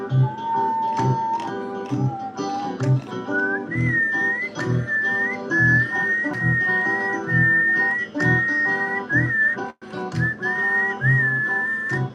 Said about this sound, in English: I'm not very good at whistling, but I whistled in that song